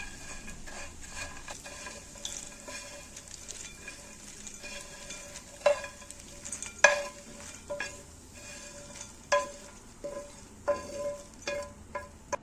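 Bread cubes fry in a pan for Egyptian fatteh while a utensil stirs and scrapes against the metal, producing soft sizzling under irregular clinks and knocks of varying loudness, with no talking.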